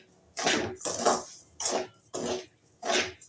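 A spoon stirs rava (semolina) in a pan over a low flame, making rhythmic scraping, rustling strokes that come in about five separate bursts with short pauses between them.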